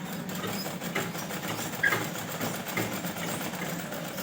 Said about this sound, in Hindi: इस तरह से हम थोड़ी थोड़ी सिलाई लगाते जाएंगे।